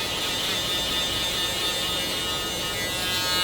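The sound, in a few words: electric shaver buzzing during a military skin fade haircut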